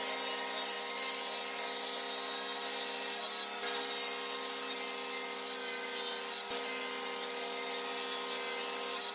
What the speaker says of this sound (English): I'm going to have to trim these two boards down before I put them together to make a 16 inch wide board.